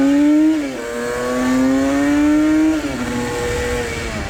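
A Yamaha RD 350 café racer's two-stroke engine revs hard and close, its pitch dipping, climbing steadily, then dropping sharply as the throttle snaps back, with no voices.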